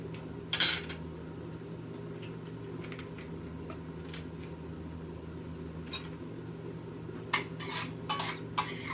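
A spoon scrapes and clinks against a pot of peach pecan amaretto jam as it is stirred, with faint scattered taps over a steady low hum, plus a few sharper clinks near the end.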